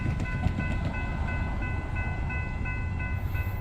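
A freight train led by a Conrail heritage unit rolls past at night in Pittsburgh, its steady heavy rumble joined by a sustained high-pitched wheel squeal across the whole stretch.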